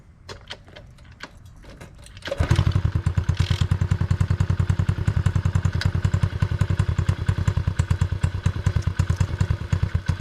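A Coolster 70cc dirt bike is started with no choke and no throttle. A few scattered thumps and clatters come first, then the engine catches and settles into a loud, fast, steady pulsing idle right up close.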